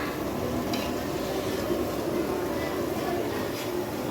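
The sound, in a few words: tempering sizzling in pot for chicken curry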